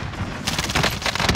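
Rapid burst of video game gunfire in an online multiplayer shooter match, dense overlapping shots loud and close throughout.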